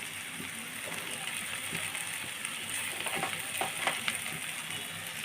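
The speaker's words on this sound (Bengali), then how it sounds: "দিয়ে নেড়ে চেড়ে মশলাগুলো ভালোভাবে কষিয়ে নিব" Spices, including turmeric and chili powder, frying and being stirred in a pan for an egg dish, giving a steady soft sizzle with faint scraping clicks throughout.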